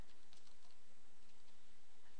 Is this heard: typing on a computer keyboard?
yes